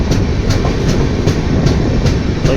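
A train rushing past on the Bengaluru–Goa line near Dudhsagar: loud, continuous rumble with regular rhythmic clickety-clack wheel beats throughout, no talking.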